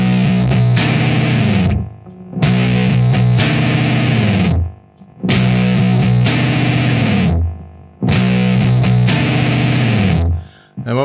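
Electric guitar with heavy distortion strums a 7 sharp 9 chord in a stoner rock style, in loud sustained bursts of a couple of seconds each, with short silent gaps between them.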